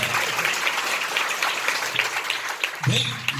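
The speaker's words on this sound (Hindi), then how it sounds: "ताली को मैं बजाऊंगा" An audience at a Christian sermon claps in a steady, moderately loud burst, and a voice cuts in near the end.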